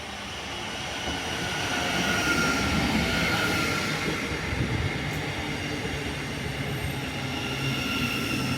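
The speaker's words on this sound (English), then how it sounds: "So we're going to wait for the next train to arrive now" A train rumbles steadily nearby with broad rushing noise and a faint high squeal, holding at a constant loudness throughout.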